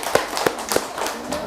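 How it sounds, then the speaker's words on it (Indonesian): A group of teachers at a school training session claps in unison, three sharp, evenly spaced claps followed by a looser scatter of softer hand claps. "beri tepuk tangan untuk kita semua"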